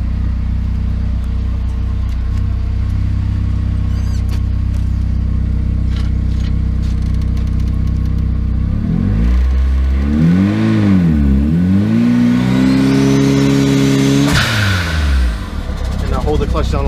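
A car engine revving steadily while the clutch is slipped during a clutch break-in, a loud continuous drone that rises, dips and rises again in pitch toward the end, close by and dominating throughout.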